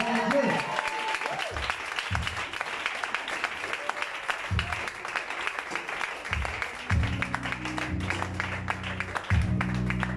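A church congregation applauds and acclaims the Lord, with sustained crackling clapping and crowd noise throughout, while low, punchy instrumental notes break in intermittently toward the end.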